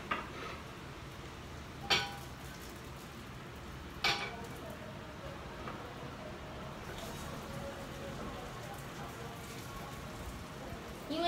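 A slice of egg-dipped toast fries as French toast in a cast iron pan over moderate heat, giving a steady soft sizzle throughout, with a couple of sharp clinks of utensils against the pan.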